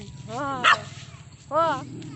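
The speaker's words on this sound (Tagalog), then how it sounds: "Aso." A dog barks twice outdoors in the mountains, a short bark followed by a longer one about a second later, fairly near and moderately loud.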